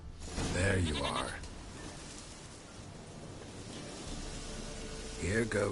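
A goat in The Witcher 3 gives two loud, wavering bleats, one at the start and one at the end, with a quiet windy outdoor ambience between them.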